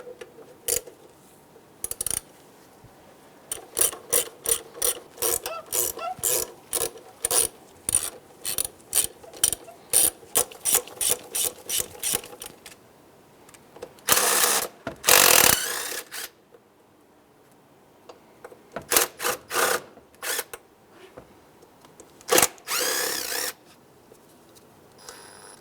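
Ratchet working loose the 12 mm throttle body nuts and bolts on a Honda Element, rapid clicking pawl bursts in runs, close and clear, with short pauses and a couple of louder rasping stretches, no voices.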